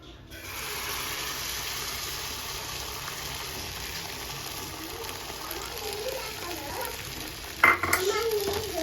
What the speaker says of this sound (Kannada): ಸೊ ಇವಾಗ ಬೀಟ್ ಮಾಡ್ಕೊಂಡಿರೋಂಥ ಎಗ್ನ ಹಾಕೋಣ.